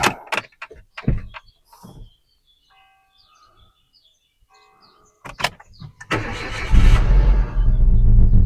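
A Renault Mégane Scenic with a fault that leaves it running on three cylinders cranks and fires, the engine catching loudly and running roughly after several short clicks and mechanical clunks, with no talk.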